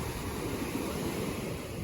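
Sea waves wash onto the shore in Alanya, Turkey, a soft continuous broadband rush without distinct breaks, faint and steady throughout.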